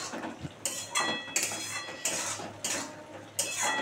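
A lid clatters onto a cooking pot of paneer ghugni, several bright metallic clinks and rattles repeating at a quick, uneven rhythm, close and fairly quiet, with no talking.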